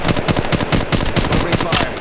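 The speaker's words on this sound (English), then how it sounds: "Shots fired and they're hitting me." Rapid automatic gunfire from the mobile battle royale shooter Apex Legends Mobile, with a steady run of close, loud shots of even rhythm filling the two seconds.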